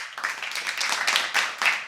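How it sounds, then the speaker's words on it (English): Short round of applause for a guest at a virtual gathering, a few people clapping in uneven bursts, thin and close, with no voices over it. "give me a virtual round of applause for my girl"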